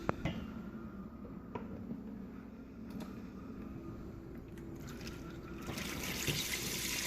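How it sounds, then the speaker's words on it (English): Aquarium water from an Innovative Marine SR-80 reef tank siphons into a bucket, a steady close trickle and gurgle that swells into a louder rushing pour toward the end. "Let me just siphon some of the water out and get the flow going."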